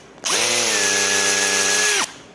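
An IBELL brushless cordless drill running steadily in hammer mode into a wall for about two seconds, loud and close, with a constant whine that starts and stops abruptly.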